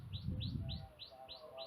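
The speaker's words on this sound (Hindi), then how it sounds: "चिड़िया लगातार बोले ही जा रही," A small bird chirps again and again in a quick, regular series of high tweets. It is faint and close, over a low rumble at the start.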